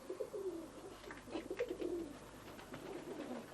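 Racing pigeons in a loft give soft, repeated throaty coos, several overlapping at low volume against a quiet, slightly noisy room background.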